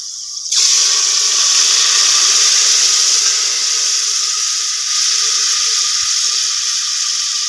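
Water poured into a pot of cooking khichdi with chilli, turmeric and salt masala, a loud steady hiss and sizzle that starts abruptly and runs on evenly to the end.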